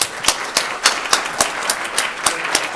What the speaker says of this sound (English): So please, let's give him a warm welcome with a round of applause.